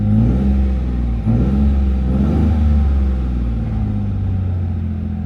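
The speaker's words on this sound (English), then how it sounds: "Ooh, it's idling really high." Car engine idling high at around 1500 rpm while choking, a steady close mid-low drone with a brief dip and swell as it revs, no talking.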